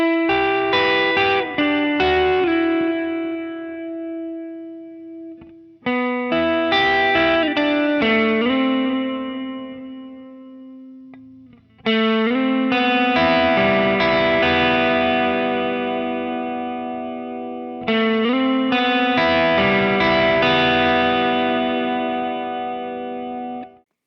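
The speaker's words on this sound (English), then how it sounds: "I dialed in the pedal to give me an underdrive to clean it up a little bit" Electric guitar with a neck pickup, played through a York Electronics Royal Pain V2 pedal set to a mild underdrive with the tone knob turned up bright. Four strummed chordal phrases ring out close and loud, each sustaining and decaying before the next begins.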